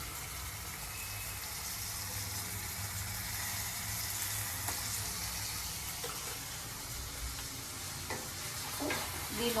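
Paneer gravy being stirred as it fries in a pan for methi matar malai, a continuous loud sizzle with scraping stir sounds close up and no talk.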